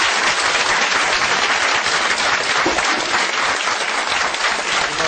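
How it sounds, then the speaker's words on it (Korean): Sustained applause from a large audience at a crowded press interview event, dense and steady clapping filling the whole stretch without pause. "여기까지만 하고 이제 나가실 건데 박수 부탁드립니다."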